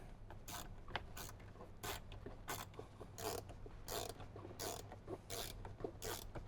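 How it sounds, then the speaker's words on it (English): A ratchet with a 7mm socket tightens factory screws on a 2015-2018 Jeep JK Wrangler speaker, making a faint, steady series of rhythmic clicking pulls with no talk. "then go ahead and tighten it down with a 7mm"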